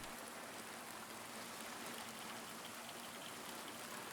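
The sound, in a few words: rain in the video game Silent Hill 2 Remake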